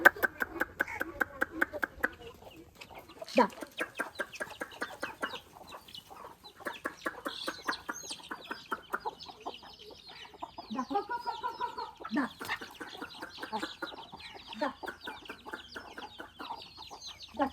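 Village hens in a farmyard clucking and chattering as they gather, a busy overlapping stream of short clucks up close, with a few louder calls and occasional knocks.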